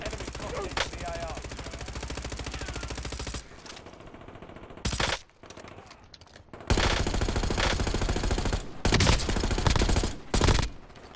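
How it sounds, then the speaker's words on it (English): Video game gunfire rattles out in loud, dense automatic bursts with brief gaps between volleys, joined by short game voice callouts. "How many times I gotta shoot that man?"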